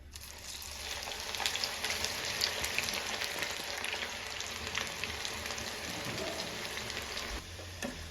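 Okra pieces fry in hot oil, a dense, even crackling sizzle like steady rain, continuous and fairly close throughout with no voices.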